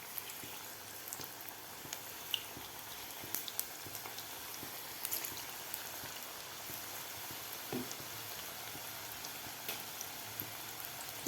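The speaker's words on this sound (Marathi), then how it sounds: "अशा प्रकारे आपल्याला जेवढी कढईत बसेल तेवढी आपल्याला भजी सोडून घ्यायची आहेत." Taro (colocasia) leaf bhaji frying in oil in a kadhai, a steady crackling sizzle with fine bubbling pops throughout, close and even, with no voices.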